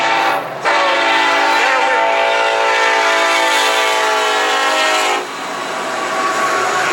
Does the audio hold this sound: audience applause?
no